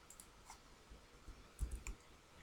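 Computer keyboard keys tapped: Ctrl held and the down arrow pressed twice, a few faint, quiet clicks close by in a still room.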